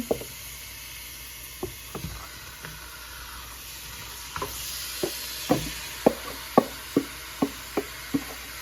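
Marinated mutton with chilli powder, garlic and ginger goes into a pot, giving a low sizzle under a steady hiss, followed by a series of clear knocks and scrapes of a spoon stirring. No one speaks.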